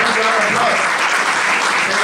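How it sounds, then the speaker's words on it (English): Audience applause at a social media marketing talk, a brief steady burst of loud, dense clapping from the crowd throughout. "Come on, please round of applause."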